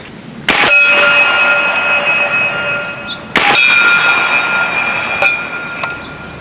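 Two loud metallic clangs from a big-bore .457 caliber air rifle slug striking a steel gong at 50 yards, each ringing and slowly decaying over a steady outdoor background, with a fainter tink near the end.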